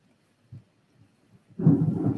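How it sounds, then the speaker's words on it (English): Thunder erupts as a sudden loud, sustained rumble from a storm, after a quiet stretch with a few soft thumps. "I sure hope the lights don't go out with all of this thundering and stuff"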